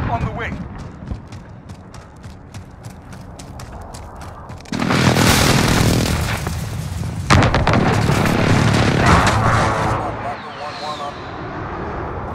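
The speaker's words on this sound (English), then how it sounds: "Friendly precision airstrike on the way." Precision airstrike explosions in a Call of Duty Modern Warfare match: a run of rapid sharp bursts gives way to loud, sustained booming blasts and rumbling debris over several seconds, mixed with game gunfire and a voice.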